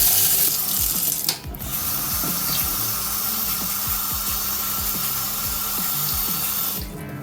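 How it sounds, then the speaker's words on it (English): Warm water pours steadily from a tap into a container of incubation substrate for crested gecko eggs, a continuous close splashing rush with small gurgles, briefly interrupted once before flowing on. "then we're filling it up with warm water"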